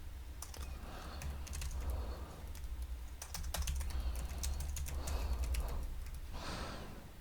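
Computer keyboard typing runs in irregular bursts of clicking keystrokes throughout, close and fairly steady, with no talk over it.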